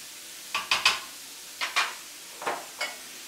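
Vegetables hit a pan, followed by several short scraping stirs in small bursts, with faint sizzling between them, close and fairly quiet.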